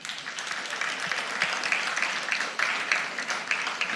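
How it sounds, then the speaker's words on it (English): Applause rises from the audience at a book launch marking an anniversary, a sustained spread of clapping with some sharper individual claps standing out, moderately near and without clear speech. "He deserves that applause."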